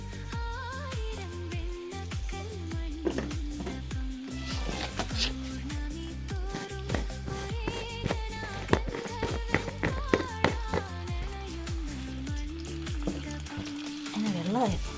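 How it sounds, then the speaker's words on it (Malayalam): Mustard seeds sputter and crackle in hot oil during tempering for a Kerala-style raw papaya thoran, giving a busy stream of sharp pops over a soft sizzle while someone talks intermittently. "നമുക്ക് കടുക് പൊട്ടി വരുന്നുണ്ടേ."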